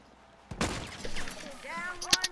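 Video game gunfire: a sharp burst of shots rings out, then a voice talks over the game sounds before another brief, loud crack at the end.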